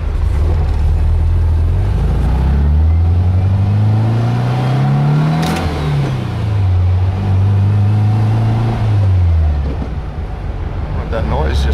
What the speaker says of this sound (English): It's a nice little area to drive your car back there.